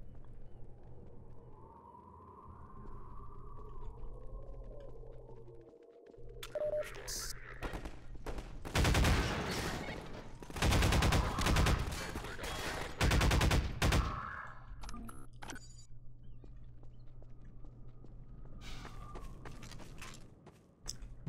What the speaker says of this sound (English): This gun is way more accurate than the submachine gun.